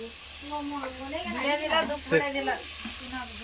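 Garlic and tomato fry in a pan with a steady hiss and sizzle, while a person talks over the cooking throughout.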